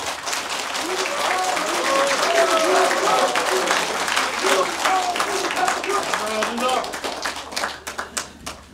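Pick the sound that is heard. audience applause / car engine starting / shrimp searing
audience applause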